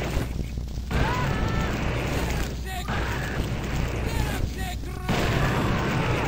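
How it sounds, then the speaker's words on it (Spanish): Dynamite blasts go off in the shooter game Blood, a dense run of heavy booms and rumbling impacts that stays loud throughout with brief dips, mixed with game noise and a speaking voice. "Vamos a lanzar ahí unas granadas allá. Unas dinamitas allá."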